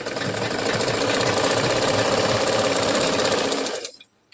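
Sewing machine running a continuous fast stitch on a blouse fabric, a steady close rattling whir for nearly four seconds before stopping abruptly, leaving near silence.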